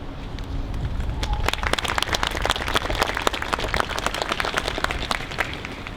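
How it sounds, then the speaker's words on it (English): Sustained applause from a crowd at a school annual parade, many hands clapping densely and steadily throughout, moderately loud. "while everyone's clapping"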